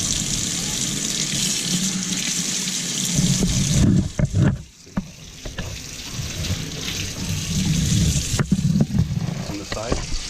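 Tap water runs into a sink while a Brondell Cypress water filter with a failed push valve is rinsed, a steady hiss broken by a brief pause and clattering handling sounds partway through.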